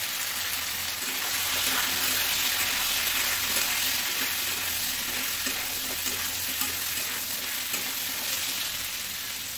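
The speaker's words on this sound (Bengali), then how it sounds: "দেখো এখন এর মধ্যে লাউ গুলো ভেজে নেবো ভালো করে" Pieces of bottle gourd frying in hot oil with a radhuni seed tempering, a dense, continuous sizzle and crackle close by, with no talk.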